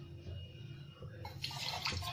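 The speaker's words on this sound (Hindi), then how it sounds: "1/2 कप पानी डालूंगी पहले" Water poured into a metal pot sitting on a gas stove, half a cup going in for a jaggery and ginger kahwa; a soft splashing, trickling pour that grows brighter partway through, fairly quiet and with no talking.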